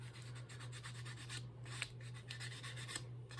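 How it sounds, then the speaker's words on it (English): Wooden spar edges rubbed with 220 grit sandpaper give a soft, continuous rasping scratch in repeated back-and-forth strokes, faint and close, with a steady low hum underneath and no talking. "I might finish this better with a finer sandpaper. This is 220 grit."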